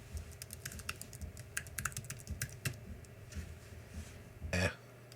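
Someone types a username and password on a computer keyboard, quick close key clicks in an irregular rhythm, quiet overall, ending in a brief louder clatter.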